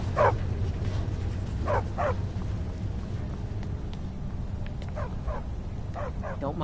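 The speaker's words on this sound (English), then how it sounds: "Don't mind the dogs. They get angry." Dogs barking in Skyrim, a few short bursts of yips and barks near the start and again toward the end, moderately close over a low constant ambient rumble.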